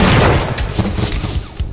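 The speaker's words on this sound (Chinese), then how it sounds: "小心手榴弹" A grenade blast in a VR shooter video game, a loud, short boom with rumbling, crackling bursts that fade over under two seconds.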